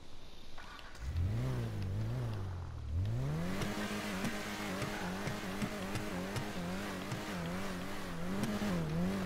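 A 2018 Nissan GT-R in a video game revs its exhaust repeatedly, starting with a few short blips and then settling into sustained loud revving with rising and falling pitch, close and alone.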